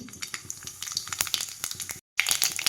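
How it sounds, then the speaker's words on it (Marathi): Mustard seeds crackle and pop in hot oil in a kadhai, a rapid burst of close, sharp spattering clicks over a sizzle, with one brief gap. "आता ह्या तेलामध्ये घातलेली ही मोहरी"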